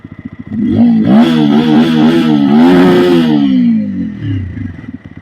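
A TVS Apache RTR 200 4V motorcycle engine revs up loudly and holds a rough, throaty roar before settling back to a lumpy idle, recorded close to the exhaust.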